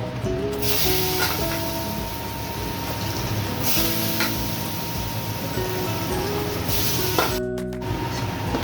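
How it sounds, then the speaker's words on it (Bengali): Potato slices frying in hot oil for a home-cooked Bengali festive meal give a steady, close sizzling hiss that runs the whole time, with faint melodic tones in the background. "এবার দেবো আলু ভাজা"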